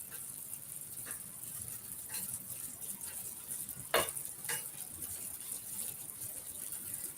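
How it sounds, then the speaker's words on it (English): Apples and pears sizzling faintly in a pan with a light coating as they are flipped, a soft constant crackle broken by a few clicks and one sharper knock. "And we're gonna flip the apples and pears"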